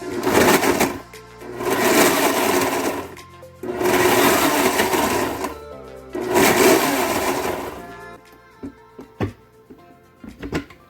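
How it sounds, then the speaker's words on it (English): Blender pulsing garden tomatoes for red sauce: three loud whirring bursts of about two seconds each with short pauses between, then a few quieter knocks and clicks. "And we'll get these blended up and get to making some sauce"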